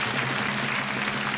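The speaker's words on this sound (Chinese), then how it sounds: "好，掌声鼓励一下张红娘" Steady applause from a television studio audience on a Taiwanese variety show, a dense continuous clatter of clapping that holds at an even level for the whole moment, with no talk over it.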